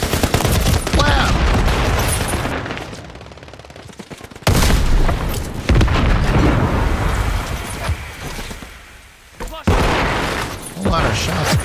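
Heavy gunfire in Call of Duty: Modern Warfare III roars in loud, dense bursts of shots and rumbling blasts, pausing briefly between volleys, with no talking over it.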